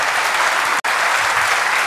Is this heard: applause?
yes